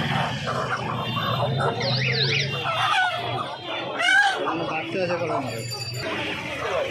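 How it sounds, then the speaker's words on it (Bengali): Kadaknath chickens cluck and a rooster crows at a busy hen market, with overlapping bird calls close by under steady crowd chatter and talk. "এখানে 2 পিস করকনাথ মুরগি রয়েছে দেখতে পাচ্ছ"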